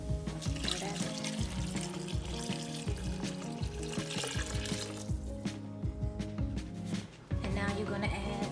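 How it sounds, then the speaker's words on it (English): Vegetable stock pours and splashes steadily into a pot of sweet potato stew amid light clinks and kitchen noise, close up, with music playing in the background. "then you're going to add your vegetable stock"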